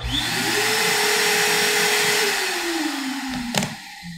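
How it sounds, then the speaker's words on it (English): A CNC router and a workshop vacuum start up together in a home workshop, a loud steady motor roar with a rising then falling whine that runs throughout, ending in a brief sharp knock. "I can also turn the router and the vacuum on all at the same time"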